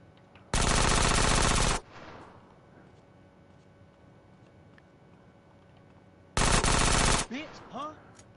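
Gunfire in GTA San Andreas comes in two loud, dense automatic bursts, the first over a second long and the second shorter. Quieter game noise fills the gap between them, and a few brief tones follow the second burst.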